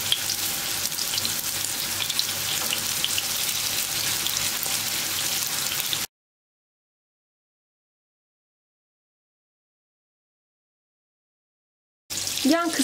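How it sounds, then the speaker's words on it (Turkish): İnegöl meatballs fry in a pan with a dense, steady sizzle for about six seconds, then the sound cuts to silence before a brief burst returns at the end. "Ben kızaranları çeviriyorum."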